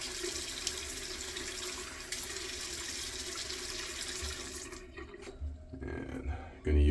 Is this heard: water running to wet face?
yes